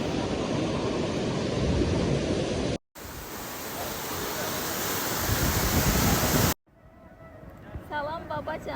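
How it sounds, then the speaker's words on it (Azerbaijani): A river flows beneath a glass bridge in Quba, giving a loud, continuous rushing roar of water, broken by two abrupt cuts; the last stretch is quieter, with faint voices. "Bu şüşədən düzəldilmiş körpünün altından isə çay axır."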